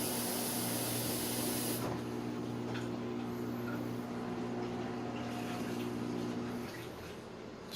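An LG WM3770 front-load washing machine sprays water to rinse off leftover soap, a steady loud hiss with a low hum that carries on throughout and eases slightly near the end.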